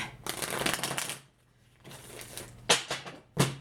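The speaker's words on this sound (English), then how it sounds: "Let me shuffle one more time." Tarot cards being shuffled in a few quick riffling bursts, with a pause in between and two short sharp snaps at the end, close up.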